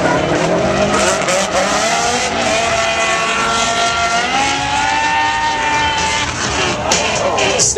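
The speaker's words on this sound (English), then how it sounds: "V10 powered, 3 Series BMW" A V10-powered BMW 3 Series drift car slides through a Formula D practice session. A loud, sustained engine roar rises and falls in pitch with tire squeal, and a faint crowd can be heard beneath it.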